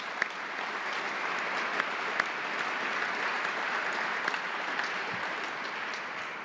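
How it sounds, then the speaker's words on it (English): Sustained round of applause from an audience at a formal investiture ceremony held at the Library of Congress, dense steady clapping throughout at moderate distance, with no speech over it. "Maybe we can give a round of applause for all of these individuals."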